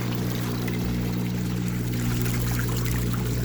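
Water pouring steadily out of a Nexus 220 pond filter, a close, continuous splashing rush with a low hum beneath it and no talking.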